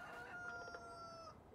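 Chickens in the video game Farming Simulator 19, a faint, clear crowing call with a steady held pitch lasting over a second, heard alone against quiet background.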